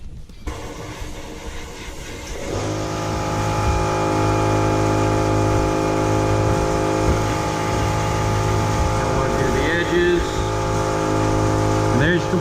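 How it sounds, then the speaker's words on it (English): An air compressor starts up in a workshop during guitar neck plate finishing work and then runs continuously as a loud, steady hum with a motor drone. A few faint background sounds occur, and no one talks. "There's the compressor."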